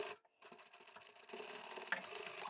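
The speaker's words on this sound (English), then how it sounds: "we'll just sew over those marked lines that we've made" A sewing machine stitching along marked lines on a scrappy fabric pouch, its quiet steady whirring running after a brief pause and growing a little louder.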